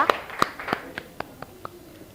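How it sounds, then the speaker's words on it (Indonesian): A classroom group applauds: a handful of sharp, scattered hand claps spaced irregularly, fairly close and thin rather than a full ovation, with some talk mixed in. "Oke, tepuk tangan semuanya ya."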